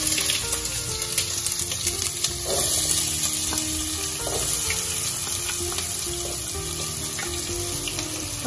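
Mustard seeds and onion frying in hot oil, a steady loud sizzle with faint pops and stirring scrapes running throughout.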